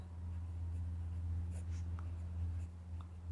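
Pen writing an answer by hand on paper during a math lesson, soft faint scratching strokes over a steady low hum, no talking.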